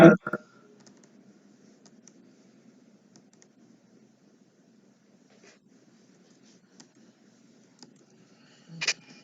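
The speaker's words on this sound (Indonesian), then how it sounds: "tekan sampai dengan berbunyi klik atau track" An RJ45 connector on a UTP network cable is squeezed in a crimping tool, giving short sharp clicks at the start and again near the end, close and distinct, with near silence between.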